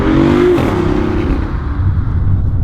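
A BMW i8 hybrid with a 1.5 litre three-cylinder turbo engine pulls away under acceleration, a loud close engine note that climbs at first and then settles into a steady drone.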